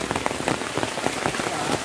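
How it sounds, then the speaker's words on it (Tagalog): Heavy rain pours steadily and densely outdoors, drumming on surfaces in a continuous loud wash, near and uninterrupted, with no voices. "Kasi sobrang lakas na ng ulan."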